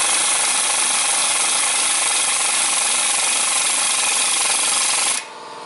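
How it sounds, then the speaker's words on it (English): An impact wrench drives a lubricated bolt through a Ford Escape ball joint, a loud steady rattling buzz lasting about five seconds before it stops abruptly, with no talk. "So I just lubed it up and driving it through with the impact."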